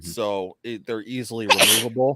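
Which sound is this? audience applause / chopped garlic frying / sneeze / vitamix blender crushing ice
sneeze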